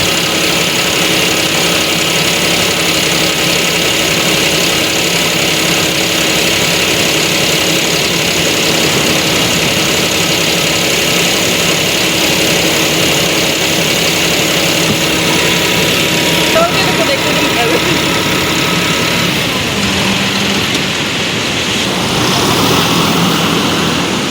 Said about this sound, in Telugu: ఇప్పుడు బోట్ను ట్రాక్టర్ సాయంతో ఏ విధంగా సముద్రంలోకి నెడతారనేది చూద్దాం